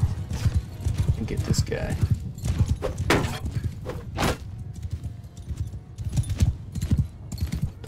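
Horses in the Mount & Blade 2: Bannerlord video game, rapid thudding hoofbeats with scattered clatter and battle noise, close and continuous while someone talks excitedly over them.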